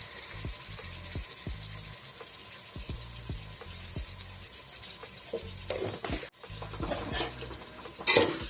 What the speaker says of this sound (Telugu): మొత్తం ఒకసారి మిక్స్ చేసుకోవాలి.